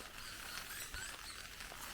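Rain patters steadily on a tarp over a backcountry campsite in Algonquin's Western Highlands, a dense, even hiss of drops close overhead with no voices.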